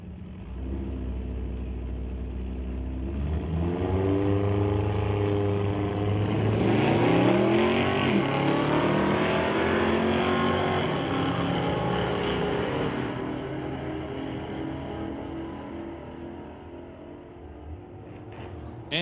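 Sportsman-class drag racing cars, including a dragster and a Dodge, launch and accelerate hard down the strip, a roaring engine note rising and sweeping past before fading as the cars run away into the distance.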